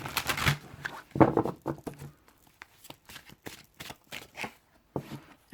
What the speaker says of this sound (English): I'm going to just pull out some other cards first before I look at those ones.